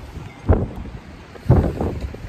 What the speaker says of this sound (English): It's really windy, gusty, rainy here today.